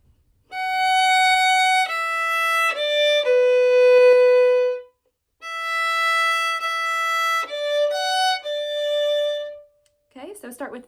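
A violin plays the opening phrase of Cielito Lindo, a bright melody of sustained bowed notes with clear pitch changes, one long held note, a short pause, then the phrase again before a brief scratchy rustle. No one speaks.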